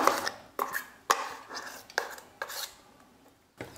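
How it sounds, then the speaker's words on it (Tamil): A utensil clinks and scrapes against metal vessels as thick, finely ground urad dal batter is transferred from one vessel to another, with sharp knocks at irregular intervals and softer scraping between them. No one speaks. "இப்போ வேறு பாத்திரத்தில் மாற்றிக்கலாம்"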